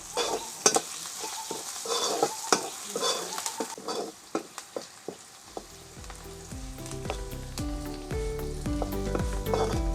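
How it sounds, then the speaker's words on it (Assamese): Cumin and chili powder frying in a pan for an Assamese fish curry, stirred with scraping utensil strikes over a sizzle that grows louder and busier in the second half. "ভালকৈ লৰাই ল'ম।"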